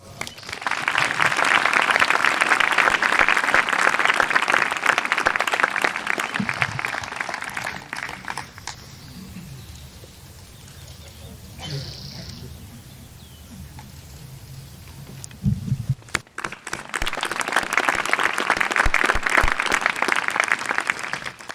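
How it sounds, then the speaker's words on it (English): Loud, dense clapping from a graduation ceremony audience fills the opening stretch, fades to a quiet lull, then swells again into a second strong burst near the end. "So please, round of applause first for Arvind and Monica Chaudhry."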